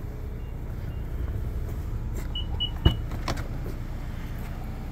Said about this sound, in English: Automatic tailgate lifts it right up for us.